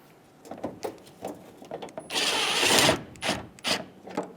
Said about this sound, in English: Install the top screws for the headlight.